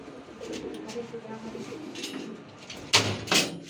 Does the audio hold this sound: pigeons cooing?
yes